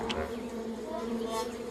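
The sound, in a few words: honey bees buzzing at a hive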